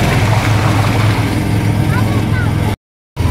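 A motorboat ride on the Chaliyar river, with a loud steady engine drone and water rush close by, cutting out briefly near the end, and people talking over it.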